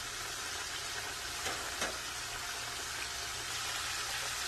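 Pieces of KFC-style crispy fried chicken frying in oil over medium heat, giving a steady, dense, close sizzle throughout with no talking.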